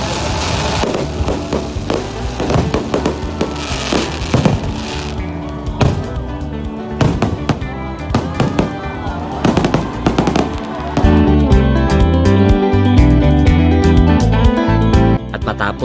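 Fireworks display at the opening of a city's Christmas lights in Baybay City, Leyte, with dense, continuous bursts and crackles heard loud and close, overlapping one another throughout with crowd noise underneath.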